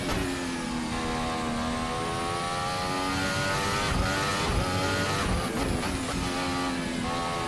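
The RSS Formula Hybrid 2018 race car's engine screams through gear changes in a racing video game, with its high whine repeatedly climbing and dropping, loud and continuous with no one talking.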